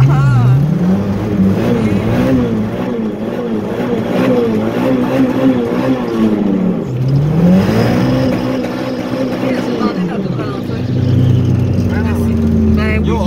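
A car engine revved during a snowstorm, the pitch rising and falling in repeated surges over several seconds, then settling lower. It is loud and close, with people speaking French throughout.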